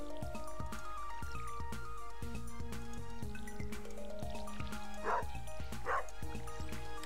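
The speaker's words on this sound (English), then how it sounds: "Yeah, yeah, dog." Two short, sharp dog barks from Stardew Valley, the farming video game, land about a second apart near the end, over steady looping game music.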